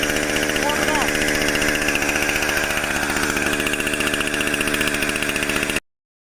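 A loud engine idles steadily with a fast, even pulsing rumble that runs continuously, then cuts off abruptly near the end.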